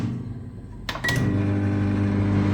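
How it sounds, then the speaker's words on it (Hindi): A microwave oven warms condensed milk for coffee, with a couple of door or button clicks followed by a steady low hum that keeps running. "इसको पहले हम करते हैं माइक्रोवेव में गर्म"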